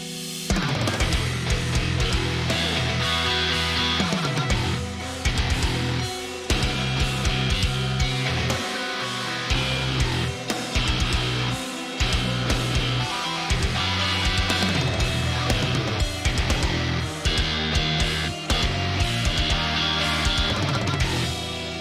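A djent-style modern metal track with low-tuned guitars plays loud and dense, with choppy syncopated palm-muted riffs broken by short stops and heavy drums hammering in tight rhythmic bursts.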